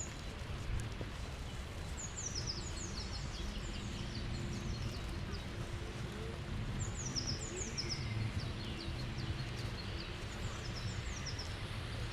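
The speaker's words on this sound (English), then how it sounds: "It is green and the birds are singing." Several birds chirp and trill in short bursts over a steady outdoor background hum in Helsinki, fairly distant, with no one speaking.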